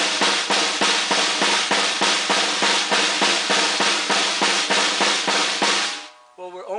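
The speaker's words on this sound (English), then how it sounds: "Now to double that, it's going to sound like this." Doubled strokes on a snare drum in a multi-bounce roll exercise: a rapid, even, close stream of crisp buzzing hits lasting several seconds before cutting off into a brief softer patter.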